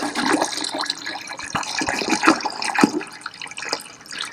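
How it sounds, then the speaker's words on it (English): Water pours and splashes into a mead jug, a fairly loud, uneven gurgling stream with small bubbling bursts and no voices. "Now, we're going to pour the rest of our water in there."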